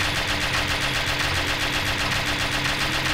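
Gunfire in the video game Uktena 64, a dense, continuous stream of rapid shots like a machine gun, loud and unbroken across the whole stretch, with no speech.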